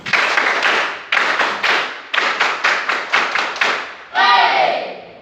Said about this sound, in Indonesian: kita kasih yel-yel kita dulu seperti tepuk tangan 337